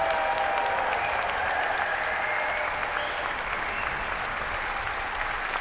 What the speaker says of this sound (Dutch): Dat is applaus en gefluit voor onze Semele van vanavond, sopraan Stefanie True.